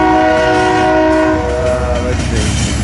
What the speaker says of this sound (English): you have an eastbound manifest slowly getting going here, going into Omaha